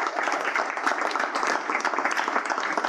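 Applause for Vincent and Lucie at a chamber of commerce president's cocktail event, a steady dense patter of clapping from a gathered crowd filling the short moment without pause.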